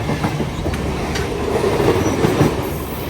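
A train rumbles along the rails with a steady clatter and faint squealing of wheels, loud and close, no talking.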